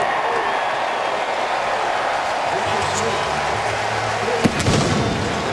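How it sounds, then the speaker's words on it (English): Stadium cannons boom at a Buccaneers NFL home game against the Packers, a sharp report rising briefly over the steady roar of a large crowd while a broadcaster talks. "There go the Cannons."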